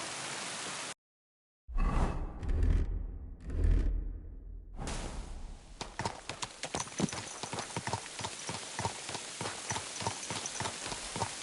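Horse hooves clip-clop on the ground in Kingdom Come: Deliverance 2, starting after a brief silence with heavy thuds, then settling into a steady rapid rhythm of close, crisp hoofbeats at a trot or canter.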